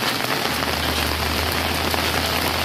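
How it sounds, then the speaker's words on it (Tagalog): Heavy rain pours down in a steady, dense, close hiss that never lets up, with no voices over it. "Dahil sa tindi ng ulan."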